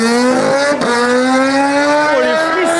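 A Kawasaki Z H2 motorcycle with an Arrow exhaust, heard close and very loud: a sustained high engine roar that rises steadily in pitch, with short dips as it shifts or blips, while voices talk faintly beneath.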